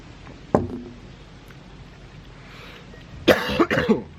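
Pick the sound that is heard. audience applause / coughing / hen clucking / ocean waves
coughing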